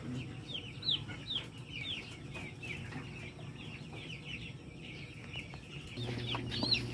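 Newly delivered chicks chirp in high, thin peeps scattered through the stretch, faint and fairly close over a low background hum from a farm setting.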